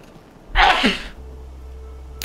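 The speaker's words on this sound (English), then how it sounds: "That was me sneezing." A single loud, close sneeze bursts out sharply and trails off within half a second, followed by quiet background hum.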